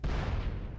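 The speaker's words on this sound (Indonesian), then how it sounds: "Meledak." An explosion in the video game GTA San Andreas makes a short, loud, rumbling burst with heavy low-end boom that fades slightly over under a second.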